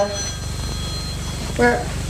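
A telephone rings indoors in a 1959 household scene, sounding as a short ringing burst near the end over a steady low hum and background murmur.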